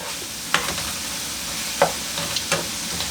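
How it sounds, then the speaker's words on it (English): Mushrooms for beef stroganoff frying in a pan, with a steady soft sizzle and a few distinct scraping stirs spaced about a second apart, close up and with no talking. "I'm going to let that mushroom cook now"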